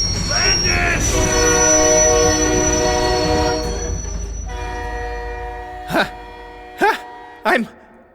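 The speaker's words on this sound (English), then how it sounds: "Eddie Hangman dodges a train and lives again." A train thunders past on the rails in an animated episode, loud rumbling with a sustained horn and squealing wheels that fades out, followed by three sharp clanking bursts near the end.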